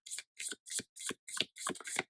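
A deck of tarot cards is shuffled close up in about seven quick riffling bursts, each a crisp papery flutter separated by short silent gaps.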